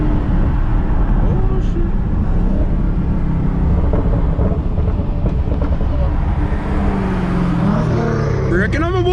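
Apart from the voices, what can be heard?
Dodge Charger SRT Hellcat driving hard in rain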